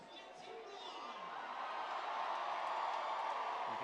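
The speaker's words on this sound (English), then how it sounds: "hear that roar around us" A stadium crowd at a BUCS Super Rugby match between Exeter University and Loughborough swells into a sustained roar after a try, building steadily louder, with a commentator talking over it.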